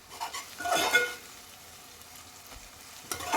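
Onions for an okra and prawn curry fry in a pan, heard as a soft steady sizzle with a couple of brief stirring scrapes of a spatula, fairly quiet and close.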